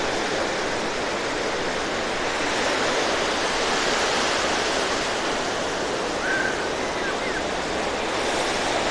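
Steady, continuous roar of ocean surf at San Juan de Alima beach in Aquila during the evening, a dense wash of breaking waves with no pauses and no voices.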